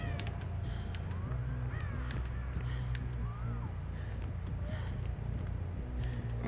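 Crow caws from the Dead by Daylight game, a few rising calls scattered over a dense, loud game soundscape with low rumbling tones and clatter.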